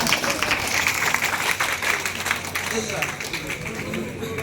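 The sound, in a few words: audience applauding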